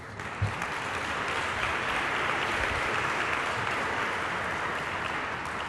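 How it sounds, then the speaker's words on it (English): Sustained applause from an audience at a city academy graduation ceremony, a steady, even roar of many clapping hands heard from within the room. "let's give them a round of applause, please."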